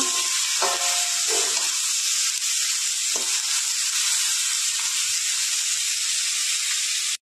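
Greens stirred with coriander and cumin powder in a hot pan, a steady loud sizzle running throughout with a few soft scraping strokes of the spoon.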